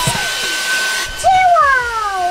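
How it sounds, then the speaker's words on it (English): A household vacuum cleaner runs steadily indoors with a continuous roar and high whine, while voices and whining, meow-like calls rise over it. "Ready to vacuum."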